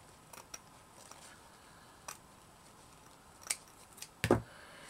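Scissors snipping ribbon for a handmade ribbon appliqué, a few faint separate clicks and cuts in a quiet room, the last one closer and sharper.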